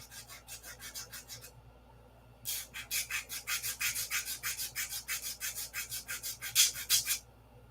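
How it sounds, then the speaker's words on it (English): Rhythmic rasping strokes of sandpaper mounted on a ruler sanding a P-47 model aircraft wing, a short burst of quick strokes, a pause, then a longer steady run of close, even passes. "There's my ruler with the sandpaper on it."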